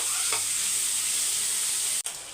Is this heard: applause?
no